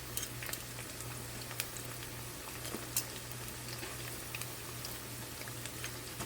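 Okra vadas frying in hot oil, a steady soft sizzle with scattered crackles and pops running throughout, moderately close with a low background hum and no talking.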